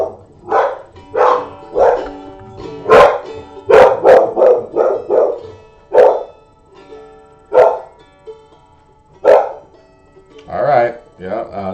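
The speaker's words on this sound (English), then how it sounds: "That's my doggy." A pet dog barks repeatedly in an uneven series of loud, close woofs and yips, with short pauses between bursts and no talking.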